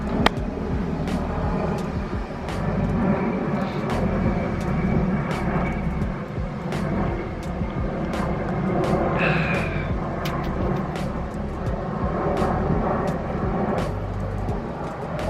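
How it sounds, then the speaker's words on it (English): A loud airplane passes overhead near a house during a Tesla solar roof installation, a broad steady roar that holds throughout with faint sharp clicks and knocks scattered over it. "Let's wait for this airplane to go by."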